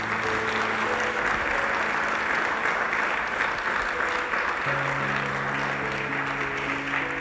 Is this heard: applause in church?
yes